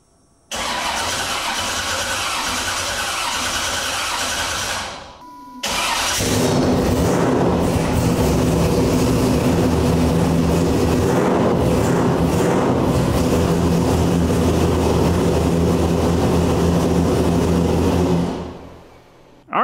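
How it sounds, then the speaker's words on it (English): A car engine runs to cycle oil, stops briefly, then starts again with a roar and settles into a steady idle before cutting off; no talking. "we have to basically fire it up, get oil cycling through the system"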